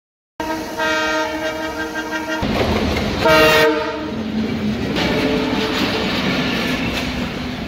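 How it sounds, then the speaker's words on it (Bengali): A train passes close by a trackside barber spot in Gazipur, Bangladesh, its horn blaring in long blasts over the rumbling, clattering roll of the wagons. "এর মধ্যেই আসলো ট্রেনের শব্দ।"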